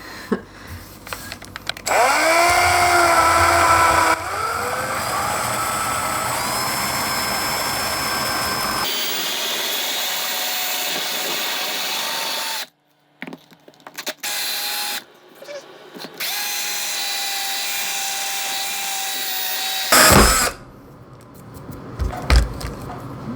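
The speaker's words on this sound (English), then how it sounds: "I start with the bit running and start at an angle and then kind of work it around." A power drill whines steadily while drilling holes for a compost crock, its pitch shifting as it bites into material, then stops and restarts in shorter bursts with quiet gaps between.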